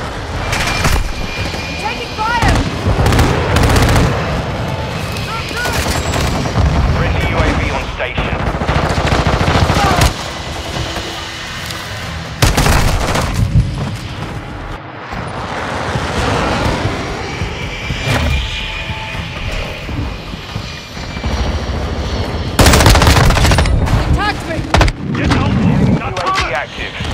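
Loud, dense gunfire and machine-gun bursts in the Modern Warfare 2 video game, layered over a roaring aircraft engine, continuous and close throughout with brief drops, and a voice calling out in places.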